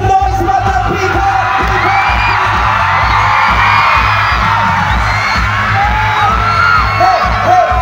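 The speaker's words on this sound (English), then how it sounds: "Make some noise" Large festival crowd at an outdoor concert in Guimbal, Iloilo, screaming, whooping and cheering continuously and loudly, with a steady pounding music beat underneath and scattered shouts rising above the roar.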